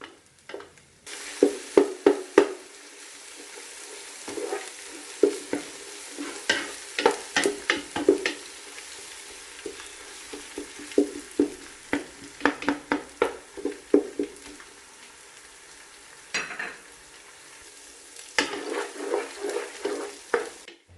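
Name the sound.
ginger garlic paste sautéing in ghee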